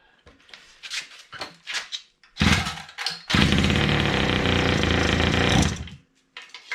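Small Kawasaki engine on a Go-Ped GSR25 scooter, choked and pull-started: a few rope pulls and sputters, then it catches into a loud, close, buzzing two-stroke idle for a few seconds before cutting out.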